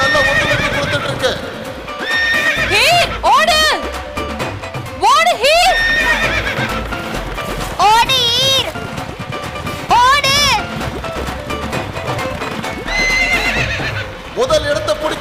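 Racehorses gallop during a horse race, letting out loud, repeated whinnies every couple of seconds over a steady din of hoofbeats and crowd noise.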